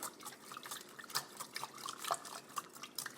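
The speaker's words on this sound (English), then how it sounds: "Just give it a light whisk, just so everything combine. Break the eggs down, just like that." Eggs lightly whisked into cornbread batter in a bowl, a wet, liquid swishing with rhythmic soft taps of the whisk, close and continuous.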